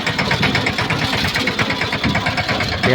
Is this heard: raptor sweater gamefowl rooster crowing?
no